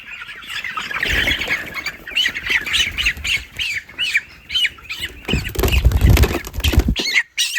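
Broiler chicken on a farm squawks repeatedly and loudly while being weighed by hand, with harsh calls throughout, rustling and handling thumps, and a heavier scuffle near the end.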